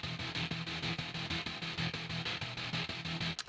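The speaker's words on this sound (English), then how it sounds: "But with the guitar distortion, it sounds almost like guitars." Two synthesizers run through guitar distortion, sounding much like rhythm guitars and played in a steady, loud, driving triplet pulse with no talking.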